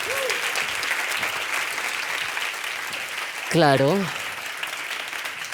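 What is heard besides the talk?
audience applause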